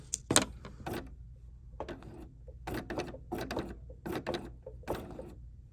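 A BERNINA 990 sewing machine stitching a quilted watermelon mat runs in short, separate bursts of whirring needle action, about eight quick runs with brief pauses between, fairly close and without talk.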